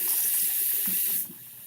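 Cold water runs from a shower in an apartment, a loud steady hissing spray that drops abruptly in level near the end, with no talk over it.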